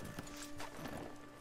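Hoofbeats of a horse in the game Red Dead Redemption 2, soft scattered thuds at a slow walk, fairly quiet beneath a steady tonal background hum.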